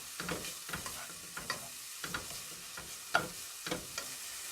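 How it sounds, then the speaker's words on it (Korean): Garlic salt is stir-fried in a pan for a spicy dried pollack and bean sprout hangover soup. A spatula stirs and taps at an uneven rhythm over a faint sizzle, quiet and close. "마늘 소금이 이 정도 조금 티스푼 한 스푼 정도 한 스푼 정도만 넣어가지고 같이 볶아줄 거예요"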